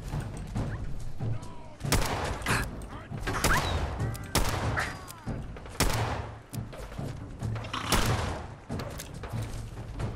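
Rapid gunfire tearing into mutant hounds in Fallout 4, loud sharp shots in irregular bursts and quick strings with brief gaps, close and dominant with mechanical clatter between volleys.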